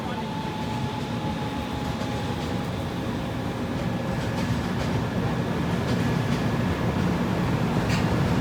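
Steady, loud rumble of the 12496 Pratap Superfast Express running on the Kolkata to Bikaner route, continuous wheel and carriage noise with a faint clatter, heard close from on board with no talking.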